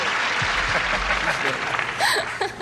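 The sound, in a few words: game show audience applause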